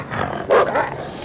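A dog barks once or twice inside the Until Dawn horror game, a short mid-loud burst over steady game ambience, with no talk.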